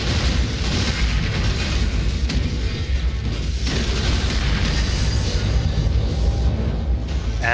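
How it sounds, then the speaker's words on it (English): Explosions rumble in the space shooter video game Cryptark as a loud, continuous low boom and crackle that rolls on for several seconds with little variation. "that little explosion thingy there would suck me in if I didn't have the good sense to get the fuck out"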